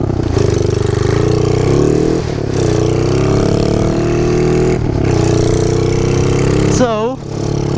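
Revving engine of a KLX pit bike fitted with a 143cc big bore kit, a steady loud drone that rises and falls with throttle blips, with a brief sharp squeal near the end.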